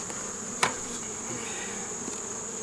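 Honey bees in a crowded ten-frame nucleus hive in September give off a continuous close buzzing drone, broken early by one sharp knock.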